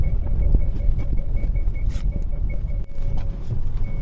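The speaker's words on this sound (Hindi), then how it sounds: "गाड़ी की आवाज़ घने जंगल की खामोशी को चीरती हुई आगे बढ़ रही थी" A car rumbles along steadily through dense forest, its engine and road noise close and continuous with a deep low drone and no speech.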